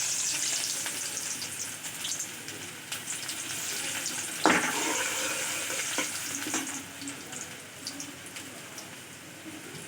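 Onions frying in a pan for a lentil dal with ash gourd and jackfruit seeds give a steady, fairly quiet sizzle, with a sharp crackling burst near the middle and light stirring scrapes around it.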